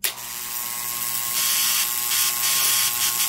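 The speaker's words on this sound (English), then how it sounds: "First, we'll give this a run. It's a little bit noisy" A Powr-Kraft linear brushless finish sander starts with a click and then keeps up a loud, steady buzzing whine with a rattling switch, like an electric shaver, and no one talks.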